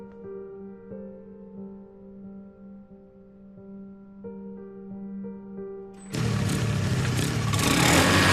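After a quiet stretch of soft tonal music, an engine suddenly roars loudly and keeps revving in a street scene from a drama.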